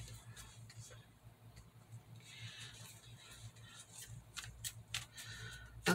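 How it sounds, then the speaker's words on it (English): Tarot cards being shuffled by hand, a quiet run of soft riffling and flicking bursts that grows busier toward the end, with faint low background hum and no clear talking. "So I'm going to shuffle these. Oh, they're shuffled so nicely."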